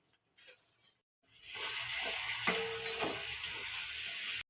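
Poppy seed, tomato and spice masala sizzles and fries in a pan, a steady close hiss with light scraping of stirring after a brief quiet start.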